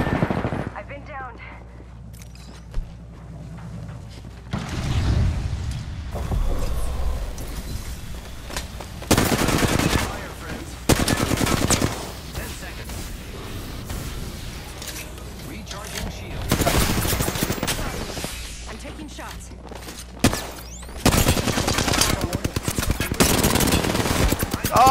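Apex Legends gunfire comes in repeated long bursts of rapid automatic shots, loud and close, separated by quieter gaps, with voices talking over parts of the fight.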